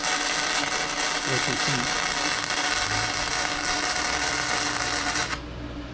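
A YESwelder 205DS welder set at its lowest setting lays small puddles on a thick piece of metal, giving a steady, loud crackling hiss that stops abruptly near the end, with a brief spoken question.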